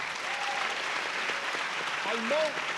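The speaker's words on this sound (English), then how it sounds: "please, a big applause for them as well" Lecture-hall audience applauds the simultaneous translators at a talk on love as a political category, a steady even wash of clapping with faint voices heard over it.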